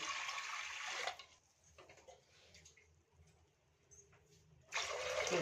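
Water poured into a pressure cooker of toor dal in two short bursts, with a quieter pause and a few faint clinks in between.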